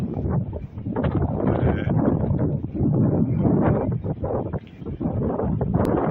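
Heavy wind buffeting a microphone on a high hilltop at Fort Regent in St Helier, Jersey, a steady loud rumbling roar throughout with no clear talk.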